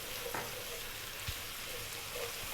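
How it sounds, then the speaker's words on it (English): Garlic ginger paste cooking in a pan of oil for chickpea curry, a faint, steady sizzle with a few soft stirring taps. "Next up, we're going to add the garlic ginger paste."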